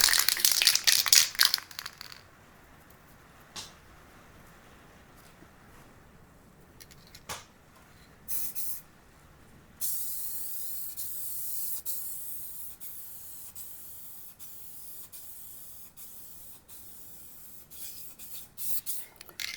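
Spray can painting vinyl with grey paint: a few short hisses and rattles at first, then a steady aerosol hiss for about ten seconds at close range. Nobody speaks.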